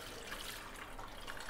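Plain tap water pouring over freshly drained cooked ada (rice flakes) for Kerala sadhya ada pradhaman, a steady soft splashing trickle into a pot, faint and continuous with no talk.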